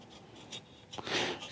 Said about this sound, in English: So if I go the edge to there, I will just draw these out.